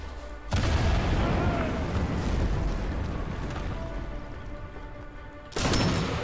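A sniper rifle shot in Sniper Elite V2 with a sudden loud boom and a long rumbling tail that fades over several seconds, then a second sharp blast at the end.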